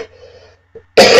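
A single sharp, loud cough bursts out near the end, after a faint murmur and a brief quiet pause.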